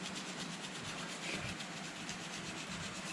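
A car mirror being sanded during kit prep, a steady, close abrasive rubbing that runs continuously and evenly throughout with no voices.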